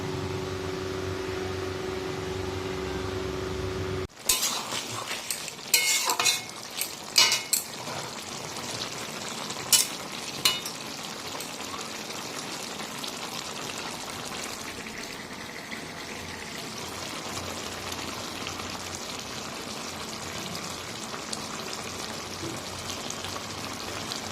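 Eggplant and other vegetables fry in a pan for a mourala fish curry with coriander. A steady hum comes first, then water is poured in with abrupt splashes, followed by continuous bubbling and sizzling.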